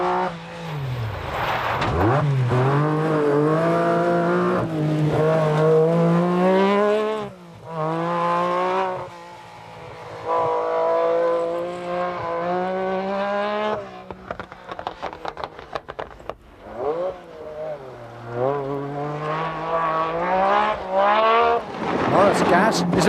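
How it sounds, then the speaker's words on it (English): A Metro 6R4 rally car's high-revving six-cylinder engine roars continuously on a forest stage, pitch climbing and falling through gear changes, with brief cutouts and stuttering moments before it surges back, loud and close. "Metro 6R4 isn't behaving, however, as the 6-cylinder engine is mysteriously cutting out, and Denis doesn't even figure"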